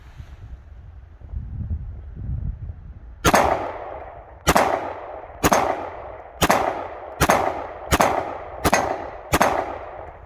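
A Glock 17 Gen 5 pistol fires 9mm rounds with expansion primers: eight loud, sharp shots, the first after a quiet pause, then seven more in a fairly even rapid rhythm, each ringing briefly outdoors.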